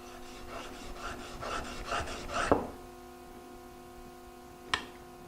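A steel chisel is honed on a sharpening stone to raise a fine burr: a quick run of rhythmic rasping strokes, about two per second, ends in a sharp scrape, followed after a pause by one lone stroke.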